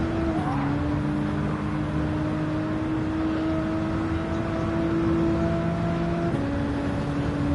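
A 690-horsepower Nissan GT-R engine in Gran Turismo 7 drones steadily at a constant pitch, with a brief pitch drop near the start and a small shift near the end, loud and continuous with no talk.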